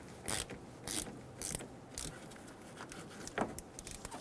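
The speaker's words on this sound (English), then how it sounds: "loosen the negative terminal for the battery." A ratchet with a 10mm socket loosens the negative battery terminal on a 2005-2015 Toyota Tacoma 2.7L L4. It makes quick repeated clicking strokes, about four evenly spaced bursts, followed by lighter clicks, close and fairly quiet.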